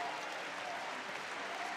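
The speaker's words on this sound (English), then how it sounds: "The Danish fans applauding their gladiators." Danish handball fans at a men's European championship final fill an arena with steady, distant applause, a dense wash of clapping without clear breaks.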